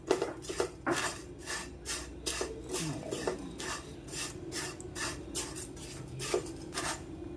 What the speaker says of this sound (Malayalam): ഗീ ഇടാം കേട്ടോ മതി വയ്ക്കല്ലേ അപ്പം നമുക്ക് നന്നായിട്ട് മിക്സ് ചെയ്യാം